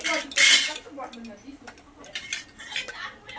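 Cinnamon, cloves and shahjeera stirred in a pot for veg biryani: a loud metal clatter near the start, then lighter spoon scrapes and clinks against the pot, close and irregular.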